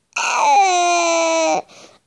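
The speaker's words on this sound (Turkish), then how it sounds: "Hayır ağlama." A child cries loudly in one sustained, wailing sob that breaks off into a short whimper, close and clear with no other sound.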